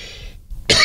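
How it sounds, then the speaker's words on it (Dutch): A single sharp, loud cough bursts out near the end, following a short pause after quiet low background sound. "Even hoesten."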